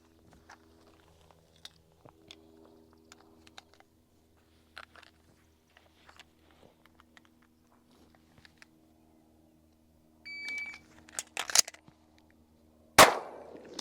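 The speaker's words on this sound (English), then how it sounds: "we're gonna do shoot, reload, shoot" Pistol fire and reloading during a box-of-ammo shooting drill: scattered faint clicks and handling noises, then a cluster of sharp reports near the end and one loud, close shot.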